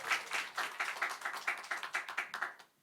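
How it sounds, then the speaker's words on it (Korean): An audience at a Sunday afternoon church missionary forum claps to welcome a guest, a light, even clapping that holds a steady rhythm before fading out. "박수로 맞이해 주세요."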